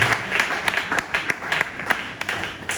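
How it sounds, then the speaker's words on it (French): A church congregation claps together in a sustained burst of applause, dense and fairly loud, with sharper individual claps standing out. "On acclame pour la parole de Dieu"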